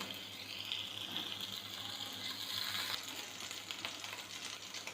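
Butter sizzling in a frying pan while making French toast, a steady, even hiss with faint crackle throughout, close and moderately loud, with no voices.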